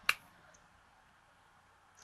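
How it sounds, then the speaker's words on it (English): A single sharp hand clap for a high five, one quick crisp smack near the start, then near silence. "I clapped"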